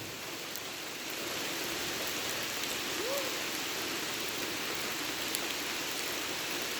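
Steady rain falls at night on a rubber plantation, a dense and continuous hiss that grows slightly louder after the first second and holds unbroken, with no voices.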